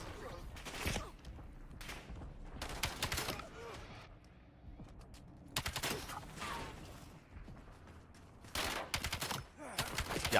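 Rapid gunfire from a Call of Duty match, with repeated bursts of automatic shots at moderate volume and faint game sounds between them, heard without clear speech.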